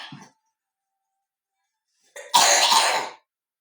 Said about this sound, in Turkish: ben öksürdüydüm de.